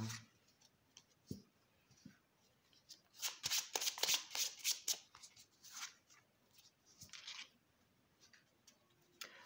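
Oracle cards being shuffled and drawn by hand, soft papery riffles and flutters in quick clustered bursts, close and quiet, with a few lighter taps between.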